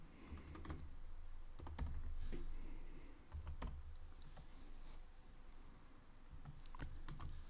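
Keys clatter on a computer keyboard in quick, uneven bursts of clicks, fairly close and quiet, with a low hum underneath and no voices.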